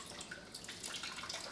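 Excess water drains and drips from a soaked bamboo steamer level set over a pan in a kitchen, a quiet, steady patter of small drips and trickles.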